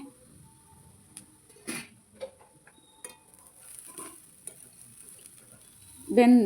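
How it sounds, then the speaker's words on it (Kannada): Sago, leafy greens and sprouts sizzle softly in a pan while being stirred, with faint scraping and a few light clinks of a spoon against the pan, ending in a louder stir. "ಈ ರೀತಿಯಾಗಿ ಎಲ್ಲನೂ ಮಿಕ್ಸ್ ಮಾಡಿದ್ಮೇಲೆ ನಾನು ಮತ್ತೆ 2 ನಿಮಿಷ ಲಿಡ್ ಕ್ಲೋಸ್ ಮಾಡಿ ಬೇಯಿಸ್ಕೊಳ್ತೀನಿ."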